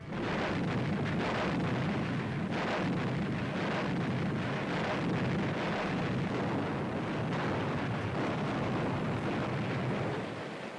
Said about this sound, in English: Destroyers open up.